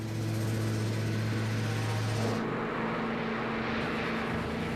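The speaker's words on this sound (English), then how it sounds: "In light snow, with the temperature hovering around freezing, Thane and Raymond start their takeoff run." Airliner engines roaring steadily at the start of a takeoff run in light snow near freezing, a loud continuous drone that drops in pitch and tone partway through as power changes.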